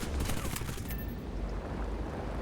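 Machine gun fire from a Catalina Mk IIIa patrol aircraft in the War Thunder video game, heard as a dense rattling burst that stays continuous and fairly loud, with no talk over it.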